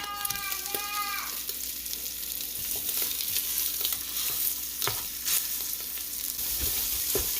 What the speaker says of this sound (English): now I'm just going to cook up that remaining bit of Italian sausage